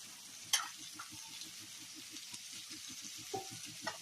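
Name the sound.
garam masala added to a frying pan for lunji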